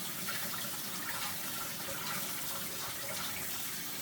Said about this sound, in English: we're going to turn our water to cold, and we're going to turn her up, and we're going to totally rinse it right off